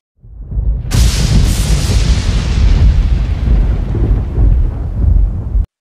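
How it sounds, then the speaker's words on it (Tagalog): A sudden, loud booming blast erupts after a brief rumble, then roars and rumbles steadily for several seconds before cutting off. "isang matinding pagsabog ng enerhiya ang bumalot sa paligid"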